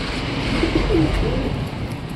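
Wild pigeons coo softly in a hanging cage on a rooftop, a low rolling call repeated a few times close by over a steady background hum.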